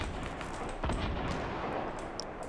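Gunfire in the video game Fortnite during a duo match, a dense stretch of shots and booming impacts filling the scene, with one stronger burst near the middle and no talk over it.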